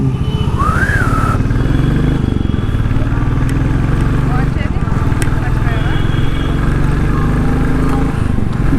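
A motorcycle swinging through a U-turn on the road, its engine running with a close, steady rumbling drone throughout and a few faint chirps over it.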